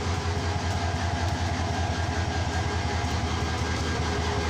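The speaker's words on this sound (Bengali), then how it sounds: "বাংলাদেশের এক প্রান্ত থেকে আরেক প্রান্তে ছুটে বেড়াচ্ছে আন্তনগর ট্রেন" A Bangladeshi intercity train running on the tracks gives a close, steady low rumble with rhythmic wheel clatter and no talk.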